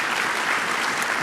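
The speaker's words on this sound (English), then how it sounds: "we can give them a round of applause as well" Audience at a spring research-center meeting applauding pitch competition finalists, a short burst of dense, even clapping from a room of people with no voices over it.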